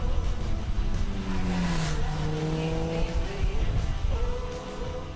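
A Suzuki GSX-R 1000 motorcycle rides along a mountain road, its engine note sliding down and then climbing again as it revs, loud and close over a rough, continuous roar.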